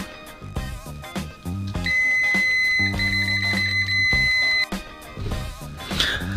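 A CRENOVA 890Z multimeter sounds its continuity test beep at maximum volume: a steady, loud high electronic tone held for about three seconds. Clicks and handling noise from the meter come before and after it.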